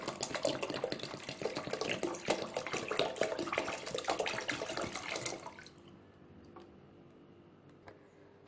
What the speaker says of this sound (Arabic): غادي نضيف عليهم اطرونس ديال الماء